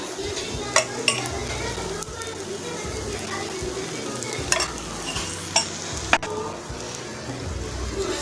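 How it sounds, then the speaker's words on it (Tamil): Multigrain dosa batter fries on a hot pan while oil is poured around it, making a steady close sizzle with a few light clinks of a utensil and a voice talking over it. "இந்த மாதிரி நல்லா ஊற்றி விட்டு சுற்றி கொஞ்சம் எண்ணெய் ஊற்றி விட்டுலாம்"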